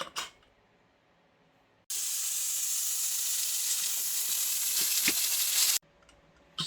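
A pressure cooker with its lid closed, cooking prawn biryani, lets out a loud, steady hiss of escaping steam for about four seconds, then cuts off sharply into quiet.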